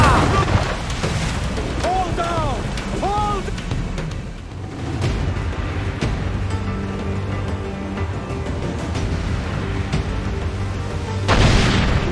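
Ship cannons fire in a naval battle in Assassin's Creed Black Flag, a string of loud booming blasts rolling across several seconds, with shouted voices and a sung melody mixed in near the start.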